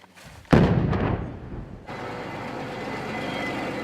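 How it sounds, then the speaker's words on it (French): A controlled demolition blast destroying captured munitions in the field, a single sharp heavy boom followed by a rolling rumble and then steady background noise. "on a constitué une destruction en fourneau pour détruire toutes ces munitions"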